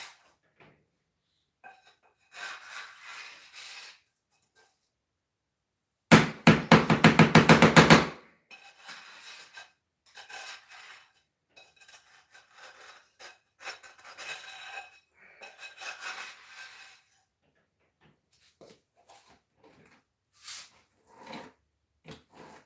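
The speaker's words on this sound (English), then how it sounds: "And we're gonna wash this pan." A pan being washed by hand: scattered clatters and rubbing, with one loud burst of rushing or scrubbing noise early on, then intermittent knocks and scrapes of varying loudness, close and without speech.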